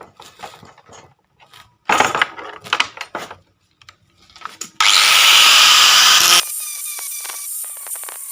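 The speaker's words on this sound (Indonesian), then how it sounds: "kita lakukan penggerindaan gerinda sedikit" Angle grinder grinding a metal exhaust part for a Honda CB100 motorcycle, a loud steady abrasive whine running continuously for about a second and a half after scattered workshop clatter, then dropping to a quieter sustained tone.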